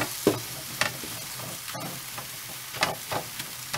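Corned beef being sautéed in a pan, a continuous close sizzle with occasional scraping stirs and utensil knocks, no voices.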